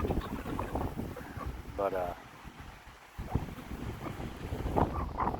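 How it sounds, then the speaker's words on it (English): Strong gusts of around 80 miles an hour batter the microphone outdoors on a farm, giving loud rushing buffets that rise and fall, with someone talking in between. "Here comes that 80-mile-an-hour wind."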